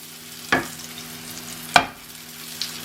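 Chicken frying in lard for homemade zinger burgers, a low steady sizzle under two sharp utensil knocks against the pan, close and quiet with no talk.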